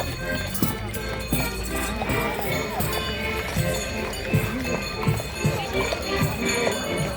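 Horses' hooves clip-clop in a carnival masquerade procession, a steady run of hoofbeats repeating through a busy outdoor crowd with voices talking over them.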